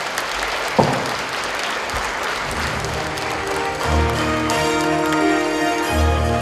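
Large hall audience applauding at a National Unity Day celebration concert, a continuous dense clapping that fills the room, with music and instruments rising underneath in the second half.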